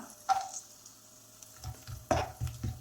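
Raisins and other rava halwa ingredients roasting in a hot pan give a soft sizzle, broken by a few louder stirring and scraping bursts, close up with no talk.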